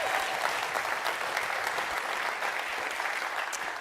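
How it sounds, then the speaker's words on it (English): Audience applause at the JavaOne community keynote, a dense, steady round of clapping from a large crowd that holds at an even level throughout with no talk over it. "Let's give them a great round of applause."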